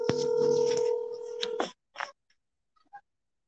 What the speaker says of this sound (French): on peut déjà entrer en contact avec Charlie Prince